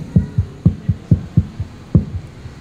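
Stage subwoofer and side-fill speakers pushing repeated deep thumping pulses during a sound check, in an uneven, heartbeat-like rhythm, loud and close with no voices.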